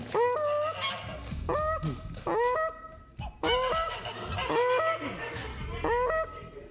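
A voice imitates a goose, repeated honking calls with rising, nasal tones in quick bursts, loud and close, with crowd noise underneath.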